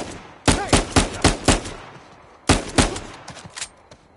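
Gunfire in the video game Uncharted 4: two bursts of sharp, loud shots, five rapid cracks, a pause, then four more, ringing out with no voices.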